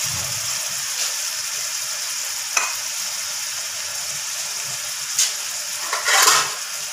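Green and red chillies hitting hot oil in a pot of Hyderabadi moong daal with softened tomatoes, giving a steady close sizzle. A few sharper pops and spatters come near the end.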